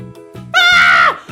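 A cartoon character gives a short, high, strained scream on spotting a bat, lasting about half a second, loud and close, with brief voiced sounds just before and after.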